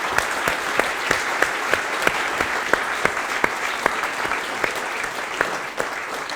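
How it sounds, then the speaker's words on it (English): An audience claps for a startup CEO at a business talk, giving steady, dense applause that holds the same level throughout, with a few sharper claps standing out. "let's give a big round of applause to Antoine."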